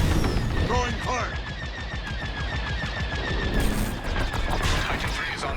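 Starfighter blasters fire in Star Wars Squadrons, rapid repeated bolts over a constant roaring engine and battle din, with radio chatter mixed in.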